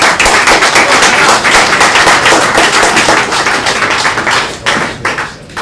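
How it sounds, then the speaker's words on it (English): Loud, dense applause from the audience at a boxing press conference in New York City for Sergio Martinez vs Darren Barker. The clapping is sustained and close, then thins slightly near the end. "I want to have a big applause for it"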